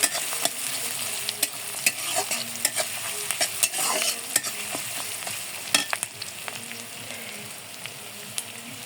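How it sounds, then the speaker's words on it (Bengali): Onions fry in a pan for a pangas fish bhuna, browning in hot oil with a constant sizzle while a spoon scrapes and stirs in irregular clicks and knocks, close and without talk. "পেঁয়াজটা আমি লাল করে নেব,"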